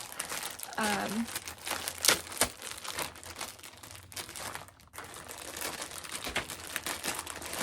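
Crinkling plastic rustles and crunches up close as a package is handled and torn open, with brief voices in the background.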